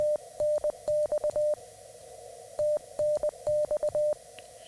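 A single-pitch CW beep keys out the Morse abbreviation TNX, meaning thanks, twice in a row, with crisp dashes and dots at an even pace over a low hiss.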